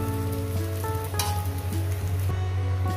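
An egg sizzles steadily as it fries in oil in a frying pan, a close, continuous crackle with a low, sustained tonal hum underneath and no voices.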